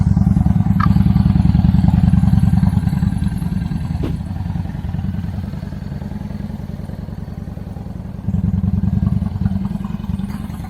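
A motorcycle engine, newly running after its main fuse was replaced, idles and revs steadily with a loud, close, continuous low rumble and mechanical clatter, swelling briefly near the end; no one speaks.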